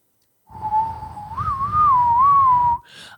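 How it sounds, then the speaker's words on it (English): A Native American whistle plays a single sustained, breathy tone that wavers gently in pitch for about two seconds, close and fairly loud, followed by a brief higher squeak. "That little Indian Native American whistle, that kind of, I know you were hitting that back in the day."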